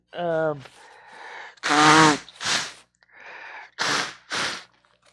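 A short burst of sneezes and sharp nasal snorts, close and loud, separated by brief breathy pauses.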